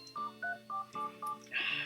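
Telephone dialing in a Super NES casino game, a quick series of five electronic keypad tones in even rhythm, then the start of a brighter ringing tone, clean and alone.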